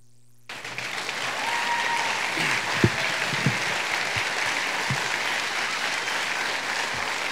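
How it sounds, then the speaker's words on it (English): Crowd applause for Iowa officeholders at a Democratic Wing Ding event, bursting in after a brief quiet moment and holding as sustained, full-room clapping with a few sharper claps and whoops standing out near the start. "Give them applause."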